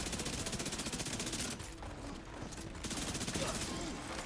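Heavy gunners in The Division 2 keep up sustained machine-gun fire, a dense, steady rattle of rapid shots that briefly thins midway before resuming at full intensity.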